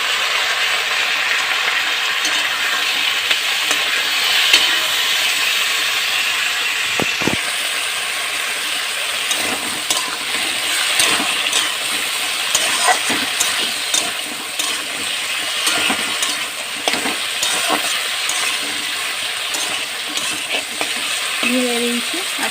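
Vegetables for a fish and bori curry fry in a pan with panch phoron and chopped ginger, giving a steady, close sizzle with scattered stirring scrapes and clinks throughout, no talking.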